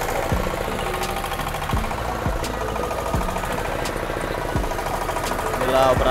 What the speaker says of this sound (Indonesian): Ini adalah mesin air, dimana nanti airnya akan disalurkan ke pipa bor untuk membantu proses pengeboran.